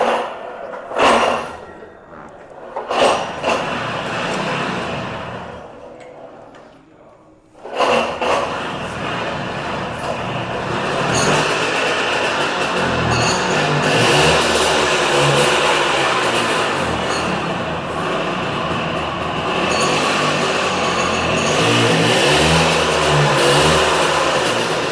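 A vintage vehicle's engine is started with a few sputtering attempts, then catches and runs steadily, a loud close continuous mechanical clatter and rumble that rises and settles over about fifteen seconds.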